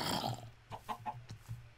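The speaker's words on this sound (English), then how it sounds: "I'll get these chickens, why not?" Chickens clucking in a Minecraft game, a few short faint clucks in quick succession after a brief burst of other game noise.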